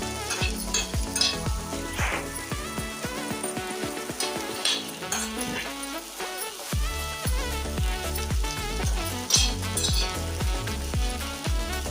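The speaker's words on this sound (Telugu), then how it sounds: "ఉప్పు దొడ్డుప్పు వేసినామనుకో మంచిగా వేగుతుంది." Coarse salt roasts and sizzles in a pan with a steady crackle and frequent metallic clinks from stirring, close and continuous, with no talking.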